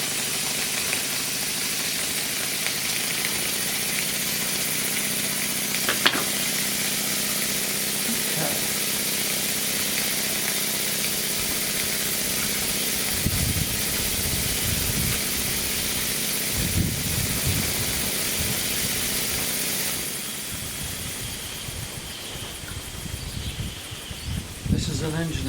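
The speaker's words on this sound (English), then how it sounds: "the engine should run properly after that" A Stuart D10 model steam engine, fed from a Stuart 504 boiler, runs with a steady hiss and mechanical clatter, a continuous close-up drone with a few knocks and a shift in tone near the end.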